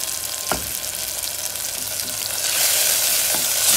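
Masalas sautéing in a pan for khichda, a steady close sizzle with a couple of brief stirring scrapes, the frying growing a little louder and brighter toward the end.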